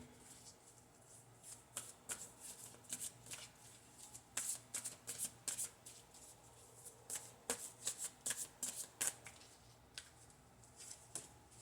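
A deck of Moon Oracle cards is shuffled close by in quiet surroundings, a series of crisp riffling bursts and soft slaps in an irregular rhythm.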